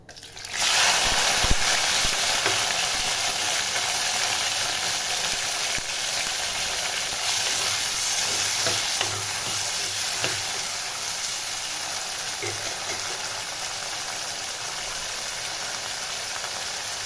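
Shallots, green chillies and tomatoes sautéing in a pan for egg kurma, a steady frying sizzle and hiss that starts abruptly and continues evenly, with occasional faint spatula scrapes.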